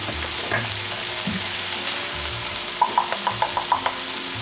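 Ground beef frying in a pan as an 8-ounce can of tomato sauce is poured in, a steady close sizzle with a string of soft clinks and taps near the end.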